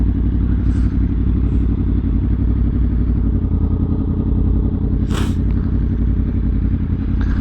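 A motorcycle engine drones loudly and steadily close by while riding, with a brief clatter and scrape partway through as the bike brakes; no talking.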